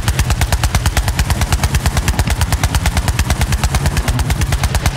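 Rapid automatic gunfire in the video game Borderlands 3, a loud, relentless stream of evenly spaced shots at about ten per second that runs unbroken throughout.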